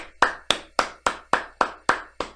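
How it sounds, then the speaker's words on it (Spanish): Eight crisp, evenly spaced hand claps ring out close and alone at a steady beat in an invitation to applaud a baseball star's achievement, each one sharp with a short decay and no talking. "Un aplauso."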